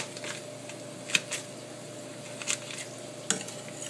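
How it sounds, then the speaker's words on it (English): Butter melting in a risotto pan for shiitake mushroom and butternut squash risotto, giving a soft steady sizzle with a few brief clinks and stirring scrapes over a low background hum. "We're going to add our little bit of butter."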